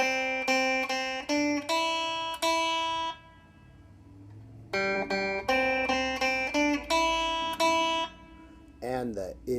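Guitar strings plucked one note at a time in the Itsy Bitsy Spider melody, clear ringing notes in two phrases with a short pause between, ending in a brief slide.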